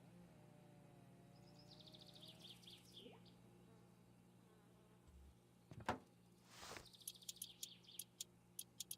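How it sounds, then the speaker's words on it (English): Birds chirping outdoors, faint and distant, in short repeated tweets and trills scattered through a quiet background with a low steady hum. "I hear my birds outside, or the birds outside IRL,"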